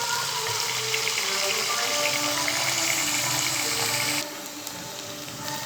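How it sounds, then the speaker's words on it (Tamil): Onions sautéing in a pan for a vegetarian gravy, a steady broadband hiss of frying running close and continuous, dropping slightly quieter near the end. "கொஞ்சம் நேரம் வதங்கட்டும்."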